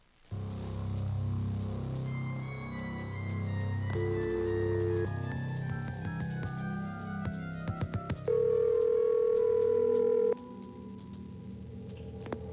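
Telephone tones from a prank phone call recording played back: a run of steady dial and dialing tones with shifting pitches, then a loud sustained tone lasting about two seconds, fairly close and clear with no talk over it.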